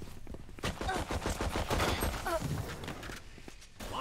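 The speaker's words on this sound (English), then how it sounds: "this guy's shooting me through a fucking metal wall" Rapid gunfire in the shooter game Valorant, a burst of repeated shots fired close and loud for about three seconds, with faint speech in the background.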